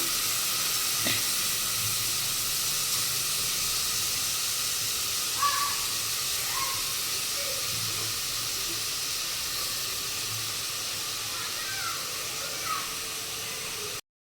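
Ridge gourd pieces hit a hot pan and sizzle in a steady, even hiss that lasts throughout, with faint bird calls somewhere in the background.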